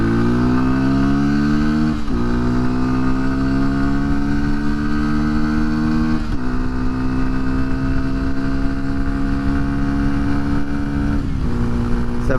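A Honda XR150L motorcycle with a 15-tooth sprocket accelerates hard from 0 to 40, the loud, close engine note climbing repeatedly and dropping at each of several gear shifts.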